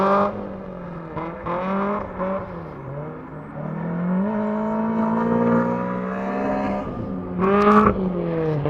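A drift car works through a winding corner on a cold day at a winter drift event, its engine revving and wavering steadily, moderately close, rising to a louder burst near the end.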